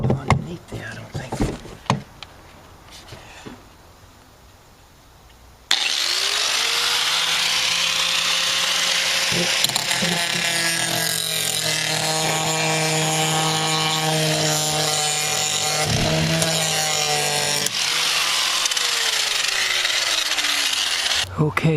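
Steady, loud abrasive sanding of car body metal down to bare solid steel, a continuous rough grinding hiss that runs unbroken for about sixteen seconds after some quieter handling noises.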